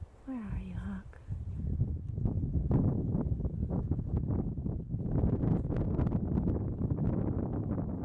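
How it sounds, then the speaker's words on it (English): Wind gusting through the trees on a forest hike, a broad rushing wash buffeting the microphone after a brief quiet opening, with a soft voice heard early on. "It's pretty windy back this way."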